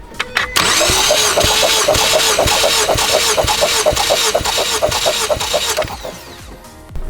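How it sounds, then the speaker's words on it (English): A Ford Focus ST engine being cranked over repeatedly by the starter, a loud, close, rhythmic chugging of about a dozen even compression beats that ends abruptly. "it's going to just start cranking over and over and over again"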